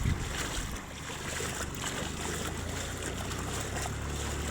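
Low rumbling wind and water noise with a steady engine-like drone, as from a boat moving over choppy water, no voices.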